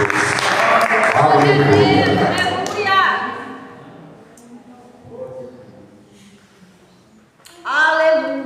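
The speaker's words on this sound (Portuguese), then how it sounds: "Vamos receber com as palmas bem alegres" A church congregation bursts into loud applause and cheering, strongest over the first three seconds and then fading into scattered claps and voices, with a fresh burst near the end.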